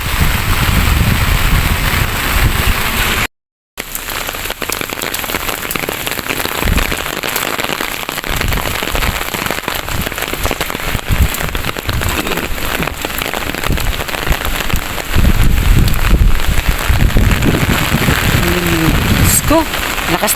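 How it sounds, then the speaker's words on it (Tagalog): Heavy rain pours onto a street and nearby surfaces, a dense unbroken hiss with patters throughout, briefly cut off for a moment early on, with faint voices now and then beneath it. "Lakas ng ulan guys, sa totoo lang."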